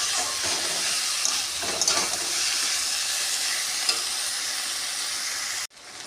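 Marinated soybean chunks sauté in a pan on low heat for a Bengali kosha soybean curry, giving a continuous sizzling hiss broken by a few stirring scrapes before the sound cuts off abruptly near the end.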